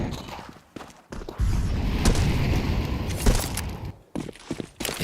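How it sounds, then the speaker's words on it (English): Grenade blasts in a Counter-Strike 2 match during a professional ESL Pro League esports broadcast: a sustained, loud booming rumble with sharp crackling bursts near two and three seconds, fading out then punctuated by brief thuds at the end. "They're going to lob in the nades"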